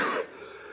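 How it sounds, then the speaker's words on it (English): A single short cough, close and abrupt, followed by a faint hiss of room noise. "You've heard me cough several times."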